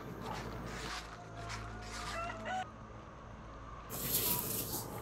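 Chickens in a free-range hillside farm make clucks and crowing calls at moderate distance, with light rustling and footsteps around them and no talk.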